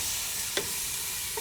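Onions fry with ground green chili paste in a pan for fish biryani, a steady bright sizzle broken by a couple of quick scraping stirs, close and alone.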